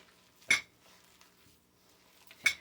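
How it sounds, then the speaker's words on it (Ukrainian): A spoon stirring curd fritter mixture with raisins in a bowl, giving two distinct, close clinks against the bowl about two seconds apart, with soft scraping between them. "так що все це дружно перемішуємо до однородної маси"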